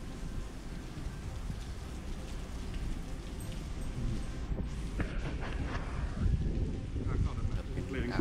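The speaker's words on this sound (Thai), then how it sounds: "อันนี้เป็นฝนตกแรงครับสาดเข้ามาด้านในครับ" Heavy storm rain lashes and blows into a Thai temple near its main stupa, a steady loud roar of rain hitting surfaces with gusty wind, continuous throughout.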